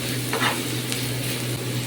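Garlic sizzles steadily in a hot pan while being stirred for ground beef, a continuous close frying hiss with a few brief scraping accents and no talk.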